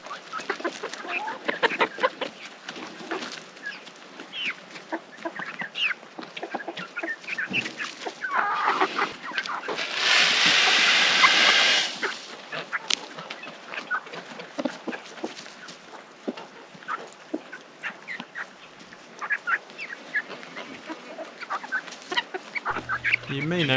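Chickens cluck continuously at close range on a homestead at feeding time, with a guinea fowl among them, and a brief rushing burst midway.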